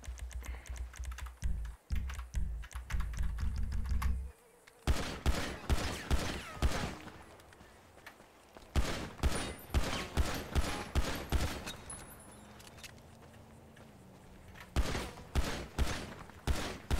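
Rapid gunfire in the GTA FiveM video game, dense bursts of sharp shots that rattle in quick runs with short pauses between volleys, alone without speech.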